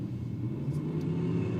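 A steady, loud rumble of engines from a Nissan S15 and a BMW drifting at Sydney Dragway, a constant broad drone heard from a distance with no break.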